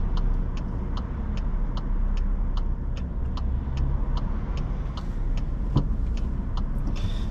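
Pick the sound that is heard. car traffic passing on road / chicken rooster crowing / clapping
car traffic passing on road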